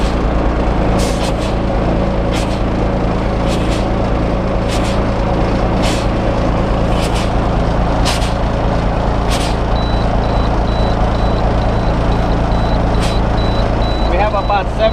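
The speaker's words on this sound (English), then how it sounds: "So we start pumping the brakes." Truck air brakes are pumped during a pre-trip inspection, with repeated sharp hissing bursts of released air over a loud, steady idling diesel engine, close by.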